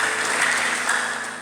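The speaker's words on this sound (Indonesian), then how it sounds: "coba berikan tepuk tangan yang terbaik buat Tuhan" Church congregation clapping together during a Sunday worship service, a dense, steady roar of applause held loud and even for a brief stretch.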